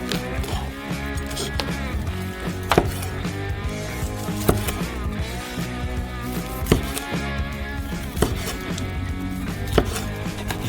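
Knife cutting sausage-topped pizza on a board: steady rhythmic chopping taps with a few sharper knocks, close and continuous over a busy background.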